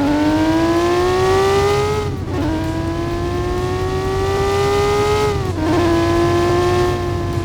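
A sports car engine in a video game drones at sustained high revs, rising gradually, then dipping sharply twice at gear shifts before climbing again, loud and continuous with no talk.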